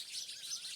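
Sparrows chirping while they feed on papaya, a steady stream of high, bright twittering calls that stays fairly close and unbroken through the moment, with no voices over it.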